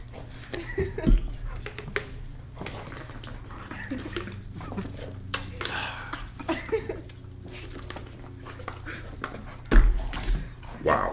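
A dog attacks a man in a pet toy costume, scuffling close by with panting, whimpers and jangling, while people talk over the commotion.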